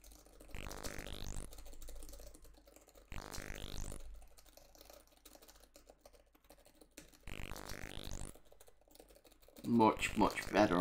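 Bursts of rapid key presses on a computer keyboard while playing a game with left, right and fire keys, several separate clusters of clicking with someone talking between and over them.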